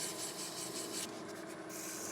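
Sandpaper held around a fingertip rubbing inside a small turned wooden box, a steady close, soft scratchy friction that continues without pause.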